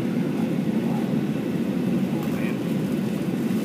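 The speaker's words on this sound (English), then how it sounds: "Another plane landing." A steady low rumble of an airplane coming in to land, continuous and moderately loud with broadband roar throughout.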